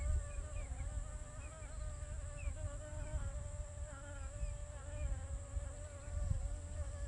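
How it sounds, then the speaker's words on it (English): Small bees buzzing around basil plants in a farm garden, a continuous faint droning hum with shifting wingbeat tones as several insects hover close by, no voices. "I've got these beautiful little bees that love this basil."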